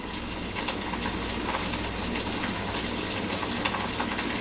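Olive oil is poured from a large container into a stock pot, making a continuous, even glugging splash from start to finish at close range.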